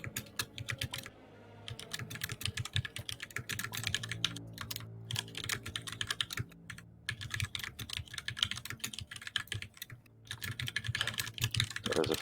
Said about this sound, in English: That is a furious typing.